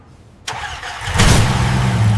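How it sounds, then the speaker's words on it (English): A Lamborghini Huracan V10, restored after years under the ocean, cranks and fires, then swells into a loud, close, rising roar. "Listen to that V10 scream."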